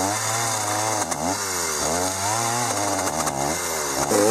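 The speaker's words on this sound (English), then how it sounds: "The log wizard also came in handy to grind away at those big old knots on the outside." A Log Wizard grinder attachment grinds down large knots on the outside of a log canoe, a loud, steady, high-pitched motor whine that rises and falls in pitch as the tool bites into the wood, running continuously throughout.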